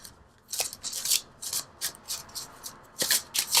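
Cards from the Enchanted Map Oracle deck being shuffled and pulled, giving repeated close, dry papery swipes and rubs in an uneven rhythm with no talking.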